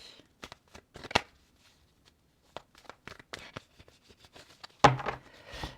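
Tarot cards being shuffled and drawn up close: a series of crisp, separate flicks and snaps, then a louder, denser riffle near the end, with no talking.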